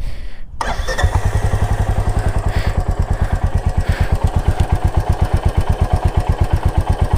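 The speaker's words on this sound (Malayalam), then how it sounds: "അപ്പോൾ എൻജിൻ ഓണായി" A Royal Enfield Meteor 350 motorcycle starts after a brief silence and settles into a loud, close idle, a steady, even thumping beat that holds throughout.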